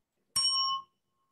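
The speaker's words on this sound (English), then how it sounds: "My bell is always happy if it gets hit." A single bell struck once, ringing with a bright metallic tone and clear overtones that fades out within about half a second.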